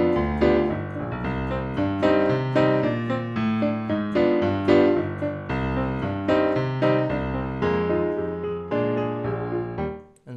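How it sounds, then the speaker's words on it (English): Solo piano plays tango with marcato quarter notes in the left hand. Evenly accented, percussive chords pulse steadily for about ten seconds under moving upper notes, close and moderately loud, with no speech. "And then with marcato feel, will sound more percussive."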